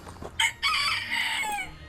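A small rooster crows once loudly and close by, a shrill drawn-out call preceded by a brief squawk, with faint background noise.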